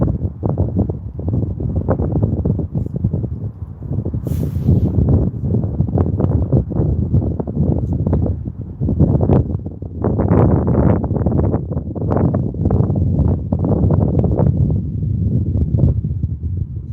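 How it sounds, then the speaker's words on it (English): Gusts of outdoor wind buffet and rumble across the microphone in uneven, roaring waves, loud and close, with only a faint brief higher hiss mixed in and no talk. "The wind just picked up."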